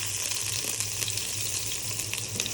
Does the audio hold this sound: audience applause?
no